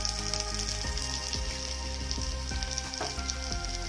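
Thuthuvalai greens fry in oil in a pan for a chutney, giving a steady loud sizzle with soft stirring taps of a spoon against the pan through the whole stretch.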